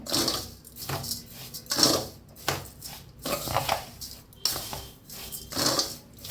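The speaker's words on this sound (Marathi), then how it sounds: "तर छान असे मिक्स करून घेऊया." Sugar is mixed by hand into a karanji filling in a metal vessel, giving rhythmic, close scraping and clattering strokes that repeat in bursts with short pauses, and no talking.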